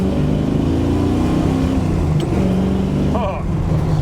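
A 1968 Camaro with a 454 big block accelerates in second gear, giving a loud, steady engine roar from inside the car throughout, with no talking over it.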